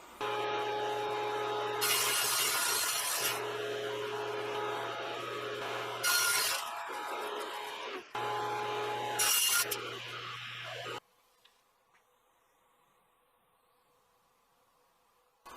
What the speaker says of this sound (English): if the cuts go really, really well, I might be tempted to also cut this piece free to shrink the frame in both directions.